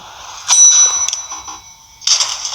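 A lift arriving in the horror game The Baby in Yellow, heard as two bright metallic dings about a second and a half apart, each with a ringing clang over a quiet background.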